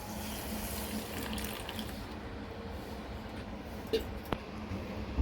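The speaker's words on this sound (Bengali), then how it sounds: "আমি এবার জল দিয়ে ভিজিয়ে দেব" Water is poured to soak black and white mustard seeds in a kitchen, a faint, steady trickle with a few small clinks near the end.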